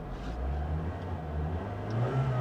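A car engine revs up in a low, steady rumble with a smooth rising hum, heard close and fairly quiet over a short stretch.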